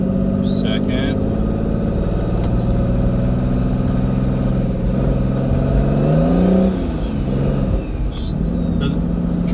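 A car pulls away gently in drive, its engine droning and rising steadily before the pitch drops as the transmission shifts into second gear, loud and close from inside the cabin, with no one speaking over it.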